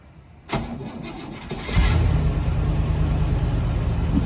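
A car engine in a garage cranks briefly after a sharp click, then catches and settles into a loud, steady idle close by, with no talking.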